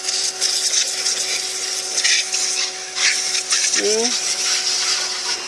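A pressure washer with a foam cannon sprays a vehicle, making a loud, steady hissing roar that continues throughout, with a brief spoken word partway through.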